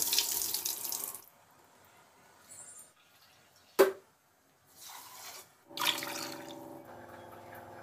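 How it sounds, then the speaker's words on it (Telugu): Rice being washed under a running kitchen tap, water streaming and splashing in bursts with quiet gaps and a sharp clink in between. "ఈలోపు రైస్ కూడా కడిగి పెట్టేస్తున్నాను"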